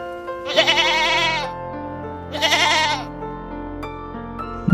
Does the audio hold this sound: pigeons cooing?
no